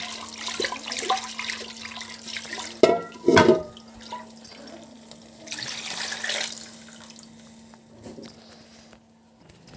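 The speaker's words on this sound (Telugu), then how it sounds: "ఇందులో కొన్ని వాటర్ వేసేసుకొని శుభ్రంగా కడిగేసుకుందాం" Water is poured onto lentils in a bowl and swished to wash them, giving a splashing, running-water hiss in bursts with some louder sloshes and a steady low hum underneath.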